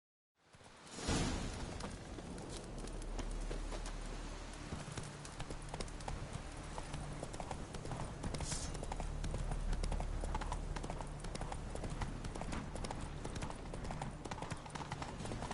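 The horse Roach gallops in The Witcher 3, a loud, fast rhythmic clip-clop of hooves that starts abruptly and drives on steadily with a swish partway through.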